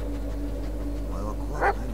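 A dog named Bullet in the horror video game Blair Witch gives a single short whimper or yip partway through, faint and alone over a low, steady ambient drone.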